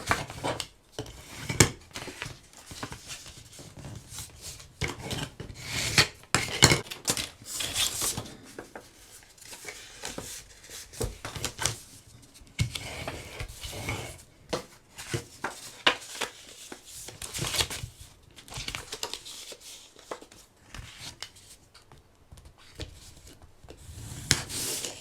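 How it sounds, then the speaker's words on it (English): Scored paper pieces being folded and burnished, a steady run of dry rubbing and scraping strokes at close range with short pauses between passes, no talking. "I'm going to go ahead and fold and burnish the scores on all of my pieces."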